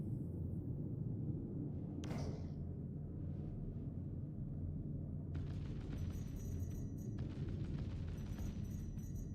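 Deadbolt ship cannons firing in the Star Citizen video game: a single sharp heavy blast near two seconds, then a rapid crackling burst of repeated shots over a constant low rumble of ship engines.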